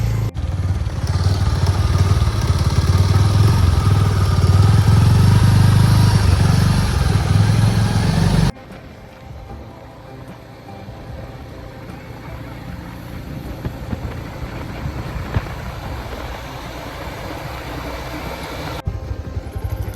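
A motorcycle engine runs loud and steady at close range for about eight seconds, then cuts off abruptly, leaving faint rumbling background noise.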